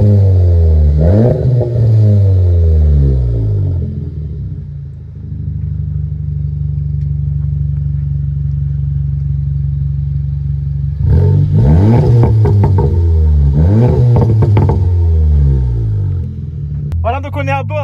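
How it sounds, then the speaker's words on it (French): A Seat Leon Cupra 290 engine revs hard in several rising and falling bursts, with a steady loud idle between them. The rasping exhaust is close and dominant. "j'ai hâte que vous entendiez la sonorité de ce véhicule"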